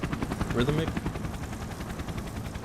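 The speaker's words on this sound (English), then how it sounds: "I see a previously hidden black helicopter in the otherwise pitch black sky" A black helicopter approaching overhead at night in the game Persona 4 Arena Ultimax, a rapid rhythmic rotor thumping that stays steady and moderately loud throughout.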